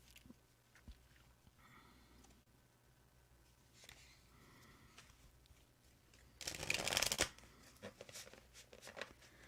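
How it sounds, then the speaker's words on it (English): Tarot cards are shuffled in a brisk burst of riffling near the end, close and crisp, after quieter scattered handling sounds. "Judith, I know I've been shuffling your card forever."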